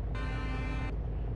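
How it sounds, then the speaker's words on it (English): A single deep, sustained horn blast from a coach in the Fernbus Simulator driving game, lasting under a second over a low, steady engine idle, with no one talking. "Nice deep horn."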